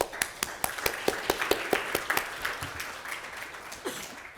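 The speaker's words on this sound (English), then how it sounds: "Please give yourselves a round of applause" A round of applause at a Texas Primary Care Consortium award presentation: a modest crowd claps in crisp, distinct bursts that hold steady and then gradually thin out.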